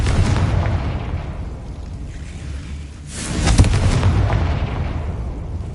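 Spell explosions from Confringo in the video game Hogwarts Legacy: a dense, loud run of booming blasts with a sharp, bright burst near the middle, then a sustained rumbling roar.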